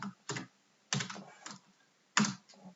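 Short bursts of keystrokes on a computer keyboard, a few quick clicks in separate clusters with gaps between them, close and crisp in a quiet room.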